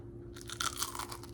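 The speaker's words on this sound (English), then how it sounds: "I just wanted you to hear the crunch of it all. The crunch, it's so amazing." Crisp, close crunching of carnivore cheese toast, a short burst of dry crackles heard alone without talk.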